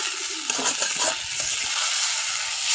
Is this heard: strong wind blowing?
no